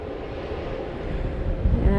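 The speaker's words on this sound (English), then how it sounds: "here goes this Southwest aircraft. Headed to the gates." A Southwest Airlines jet taxis toward the gates at Dallas Love Field, its engines a broad low rumble with a faint high whine that grows slightly louder, heard from a distance under wind noise.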